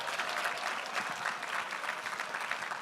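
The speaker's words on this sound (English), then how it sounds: "Give yourselves a nice round of applause for being here tonight" A crowd at a professional awards gala evening applauds together, a full, continuous burst of clapping that stays strong and even for a few seconds.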